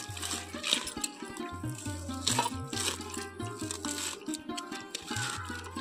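Running water splashes and trickles over a ripe palm fruit as it is washed by hand, a steady close wash with intermittent louder sloshes and no talking.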